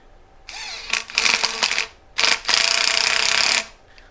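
A hose clamp is tightened onto a hose with a tool, giving close, rapid mechanical clicking and ratcheting in two separate bursts, the second longer and steadier.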